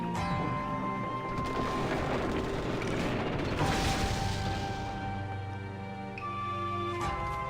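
Jigsaw bridge mechanism in Okami grinding and ratcheting into place, a loud continuous creaking rumble with gear clatter and ringing tones that swells midway and settles near the end.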